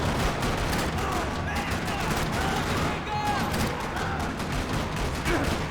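Dense gunfire from the video game Max Payne 3, with rapid overlapping shots forming a constant loud barrage throughout, with no clear gaps between bursts.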